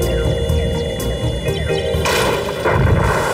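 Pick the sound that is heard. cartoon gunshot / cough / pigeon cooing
cartoon gunshot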